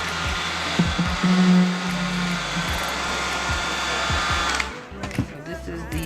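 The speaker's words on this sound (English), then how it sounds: "one more step that I want to show you is me blow drying the hair" A hair dryer blows steadily on hair dyed black, a loud continuous whir that shifts pitch slightly as it moves, then cuts off near the end into handling noises and faint thumps.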